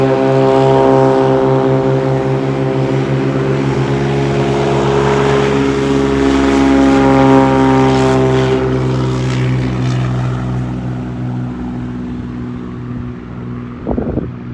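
Small propeller airplane taking off with a tailwind from the short St. Barths runway, a loud droning engine roar that swells and slowly fades into the distance, with a brief clatter at the end.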